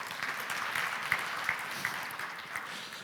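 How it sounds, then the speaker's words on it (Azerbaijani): An audience claps at a sales forum in a conference hall, steady moderate applause lasting a few seconds and fading slightly at the end, with no talk over it. "Naid bəy, buyurun, zəhmət olmasa gürültü alqışlayın."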